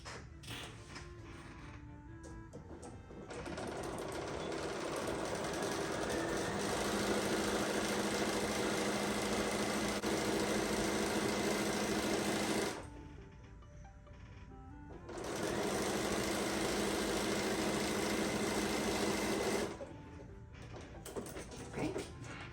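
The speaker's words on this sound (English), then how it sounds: "we're gonna go ahead and sew this accent strip on" Sewing machine stitching an accent strip onto an apron, right sides together with a quarter-inch seam: two sustained runs of steady mechanical whirring separated by a short pause, fairly close and moderately loud.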